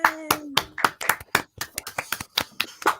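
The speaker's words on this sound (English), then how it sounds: "I just want to propose a celebratory round of applause because everybody's teams won today." A celebratory round of applause: a few people clapping in scattered, uneven bursts for about three seconds, close and fairly loud, with a brief voice at the start.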